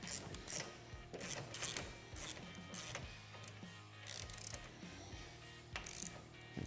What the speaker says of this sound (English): we're going to go ahead and fully tighten the top nut as well